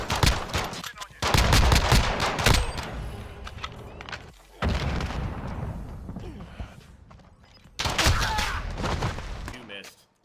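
Gunfire in a first-person shooter video game, loud rapid bursts of automatic shots in three separated clusters with brief gaps between, with a player's voice talking over parts of the action.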